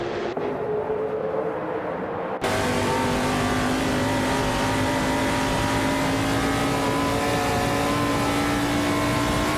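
A 1971 Chevrolet Monte Carlo race car engine in a racing video game roars loudly and continuously, with a steady high-revving drone and multiple engines layered together.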